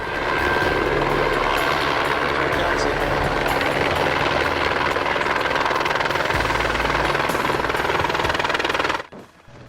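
A helicopter's rotor thumps and engine roar fill the air loudly and steadily, then cut off abruptly near the end.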